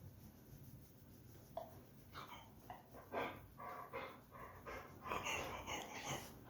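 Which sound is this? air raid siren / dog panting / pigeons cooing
dog panting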